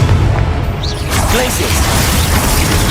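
A Confringo fire spell explodes in Hogwarts Legacy combat, a loud boom and burst set in a dense, continuous wash of battle noise, with a sharp rise just before the one-second mark.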